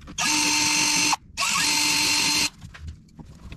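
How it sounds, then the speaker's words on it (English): A power drill fitted with a 1/8 inch bit bores out the holes of a sawtooth hanger in two loud, steady whirring bursts of about a second each, separated by a short pause and followed by quiet handling noises. "We used a 1/8 inch drill bit to drill out the holes on the sawtooth hanger so the screws would fit."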